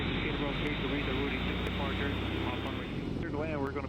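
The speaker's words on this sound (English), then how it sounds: "we'll pull over here into the run-up area and do a quick run-up" A Piper Arrow III piston engine runs up in Microsoft Flight Simulator 2020 at Teterboro: a loud, continuous propeller drone holds steady throughout while someone talks over it.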